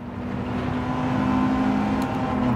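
A Mercedes 190 Evo II DTM Group 4 race car in Gran Turismo 7 revs hard at high engine speed, a loud, steady, buzzing drone that holds on its own for a couple of seconds.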